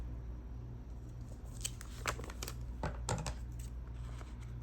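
Scissors make several crisp snipping cuts through paper, close and fairly quiet, arriving in an uneven cluster over a low steady hum, with no voices.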